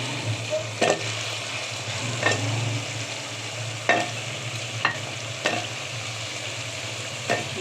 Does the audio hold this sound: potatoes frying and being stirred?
yes